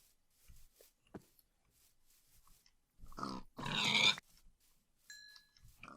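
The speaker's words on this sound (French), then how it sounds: "Ah, il y a masse cochon, c'est bon." Pigs grunt and squeal in a survival video game, a few scattered snorts and then one loud drawn-out squeal, followed by short electronic game tones.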